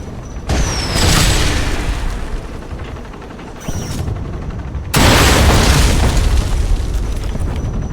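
Heavy booming explosions from missile launchers in the spy game Alpha Protocol, three big blasts in sequence with rumbling debris between them, the last one loud and sustained.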